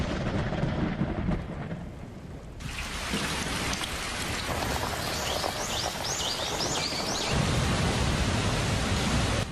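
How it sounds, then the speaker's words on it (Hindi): Heavy monsoon downpour roars continuously, a dense broadband hiss of rain hammering surfaces, loud and enveloping, shifting in intensity partway through with a low rumble beneath. "देश के करीबन हर राज्य में मूसलाधार बारिश हो रही है।"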